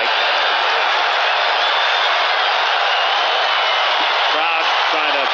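A baseball crowd at an NLCS playoff game in Atlanta, Cardinals at Braves, roars steadily to rally the home team, a broad, sustained wash of cheering with a commentator talking over it near the end.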